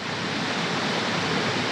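A river flows through the woods, a steady, dense rushing of water heard close by with no pauses.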